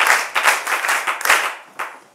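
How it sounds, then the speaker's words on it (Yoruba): An audience claps hands in quick uneven bursts, a close, lively patter of several people that fades toward the end. "ẹ pàtẹ́wọ́"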